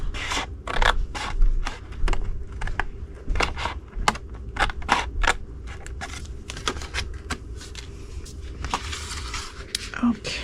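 Paper pieces being snipped off a handmade paper treat-box project with scissors, a rapid series of short crisp cuts and rustles close by, with a steady low hum underneath.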